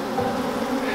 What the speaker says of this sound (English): It's a little nerve-wracking just to hear the buzzing and feel like they might be in the suit